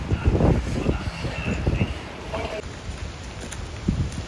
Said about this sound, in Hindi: कितनी तेज़ हवा चल रही है बारिश में भी घूम रहे हैं